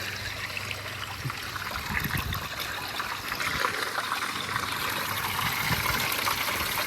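Water draining away after a big pile of leaves blocking a drain has been cleared, a steady trickling and gurgling flow that is close and continuous, with no talking.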